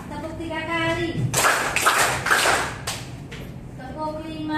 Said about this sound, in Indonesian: Tepuk 3 kali.